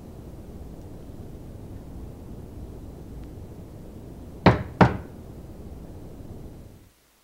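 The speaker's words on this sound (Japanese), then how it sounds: "7号室のドアをノックすると" Two sharp, close knocks on the door of room 7 in the video game Kamaitachi no Yoru 3, in quick succession over a faint steady hiss, followed by silence.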